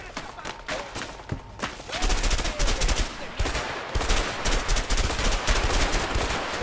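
Bursts of rapid gunfire from an inaccurate gun in a jungle shootout in the video game A Way Out, loud and close, with dense repeated shots and some brief pauses.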